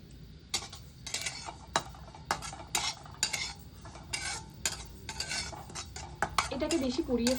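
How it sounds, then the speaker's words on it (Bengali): Sesame seeds dry-roasting in a pan while a utensil stirs them, producing close, irregular metallic scrapes and clinks over a soft rustle of seeds, with a brief voice-like sound near the end. "তিল পটল বানানোর জন্য আমি প্রথমে তিলটাকে শুকনো খোলায় ভেজে নেব।"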